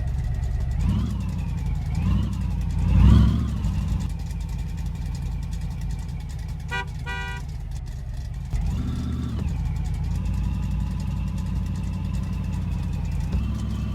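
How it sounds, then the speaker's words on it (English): Car engine from the fishing game Russian Fishing 4, heading to the river, with a steady mid-pitched hum and a few revs rising and falling, plus a brief clatter partway through, continuous and fairly loud. "John got into his car and headed to the river."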